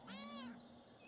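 A cat in the video game Pentiment gives a single drawn-out meow with rising and falling harmonics, close and clear over soft game ambience, lasting about half a second.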